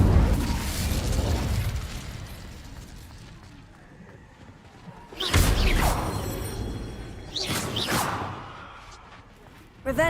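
Incendio fire spell cast in Hogwarts Legacy, erupting in two loud whooshing bursts of flame a few seconds apart, each falling away into a softer magical hum.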